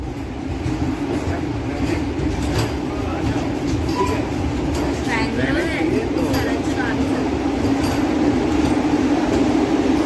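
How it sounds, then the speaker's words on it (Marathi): The Nagarcoil Express stands at Madurai station with a continuous low mechanical rumble and hum, while indistinct platform chatter and murmuring voices mix in over it. "ही आपली नागरकोइल एक्सप्रेस."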